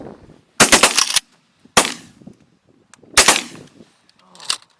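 Shotgun blasts ring out during a pigeon hunt, three loud bursts spaced a second or so apart with sharp echoing tails, followed by a fainter report, with brief low talk between shots.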